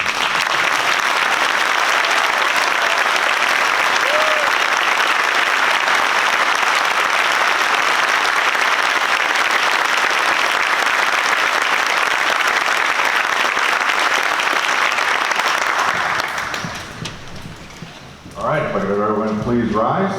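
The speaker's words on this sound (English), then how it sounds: "take another round of applause" Loud, sustained applause from a Memorial Day program crowd honoring the band members, a dense continuous roar of clapping that cuts off near the end as a voice begins speaking.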